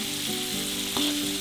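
Steady sizzling and crackling of raisins frying in a hot pan with turmeric, continuous and close, with a faint low hum underneath.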